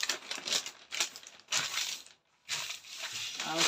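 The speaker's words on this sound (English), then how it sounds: "I'm going to fold my paper." Paper for a peplum skirt pattern is folded with close, crisp crinkling and rustling in short bursts, separated by a brief quiet pause.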